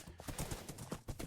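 Horse hooves clopping in Minecraft, a quick run of soft, even thuds at close range with no talking over them.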